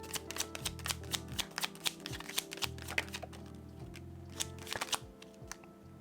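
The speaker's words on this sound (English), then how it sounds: "I'm going to get 4 more Lenormand cards" Lenormand tarot cards being shuffled close up, with rapid bursts of crisp riffling and flicking snaps in quick irregular runs, a faint low hum behind, no talk.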